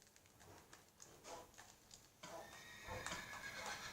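A horse in a video game neighs and whinnies across a few seconds, with soft clip-clop and other in-game sounds around it and no talk over it.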